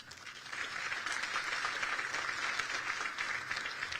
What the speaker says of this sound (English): Don't keep clapping